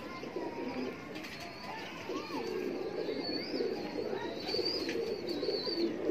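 Cooing from a Teddy pigeon, a golden breeder pigeon, in soft repeated low calls close by, steady over a constant background hum with brief higher chirps.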